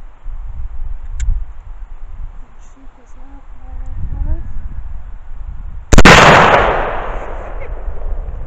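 One loud, sharp blast from a CVA .50 Express double rifle breaks a quiet outdoor scene, its boom decaying over a couple of seconds after earlier faint background sounds.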